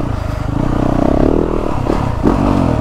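A 2023 Yamaha YZ450F dirt bike engine on a woods loop, a loud, steady four-stroke drone with a slight swell of revs near the end, close by with no talking.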